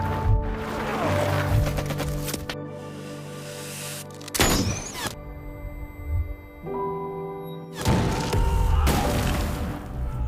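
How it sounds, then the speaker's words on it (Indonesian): A war film battle scene with North Korean forces, heavy booming explosion blasts and crashes, loud and close, with sharp gunfire bursts breaking through a dense rumbling background. "lalu dibantu oleh Ali yang menembaknya sehingga membuat ledakan yang besar."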